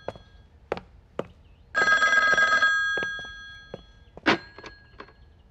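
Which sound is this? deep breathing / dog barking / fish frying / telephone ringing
telephone ringing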